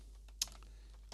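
Keys of an old PS2 computer keyboard clattering as it is handled, faint scattered clicks with one sharper clack near the middle over a low hum.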